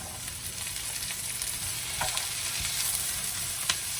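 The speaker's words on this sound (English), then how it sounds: "We're going to add the walnuts" Whole soaked walnuts fry and are stirred in a pan, giving a continuous close sizzle with scattered light scraping clicks and a few sharper crackles, and no voices.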